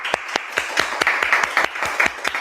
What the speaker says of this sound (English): maybe we can all give a round of applause for Donna K.